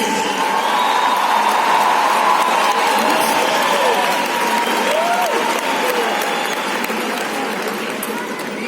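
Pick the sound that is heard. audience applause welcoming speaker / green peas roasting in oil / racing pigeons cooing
audience applause welcoming speaker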